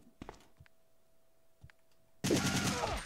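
Gunfire in Resident Evil 3: Nemesis, with a few sharp isolated shots followed by a sudden loud, sustained burst of firing at the end.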